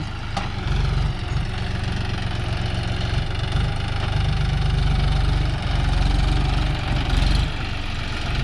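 A John Deere 5045D tractor engine runs steadily, with a loud, continuous low diesel rumble and a regular chugging pulse from start to finish.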